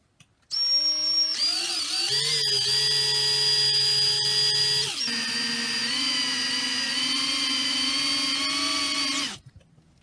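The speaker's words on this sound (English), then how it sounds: "I'm going to drill a second hole right there." A power drill whines steadily through metal, its pitch shifting as it bites, running loud and close for several seconds before stopping.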